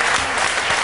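A short, dense burst of audience applause during a televised interview, lasting under a second and heard on its own.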